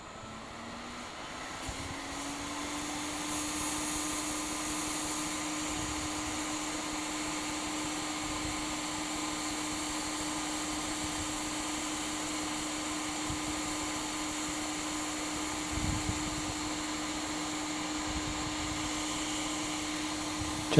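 A hot air rework tool blows at around 150 degrees onto a shorted Acer Nitro 5 laptop motherboard, giving a steady, even whooshing airflow that rises at the start and then holds constant and close throughout.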